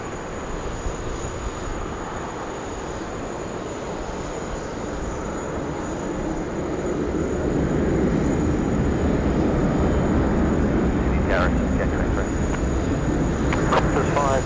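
A Velocity Airlines jet rolls for takeoff on runway 16 right at Sydney Airport, a broad steady engine roar heard from a distance that slowly swells louder, with brief radio chatter near the end.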